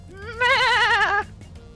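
An alien sheep in a video game lets out a single loud, wavering bleat close up that lasts under a second, with faint background noise around it.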